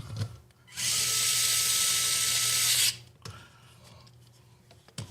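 A power drill drives screws into an RC truck's transmission, giving one loud sustained whir of about two seconds with a few faint clicks and handling noises before and after.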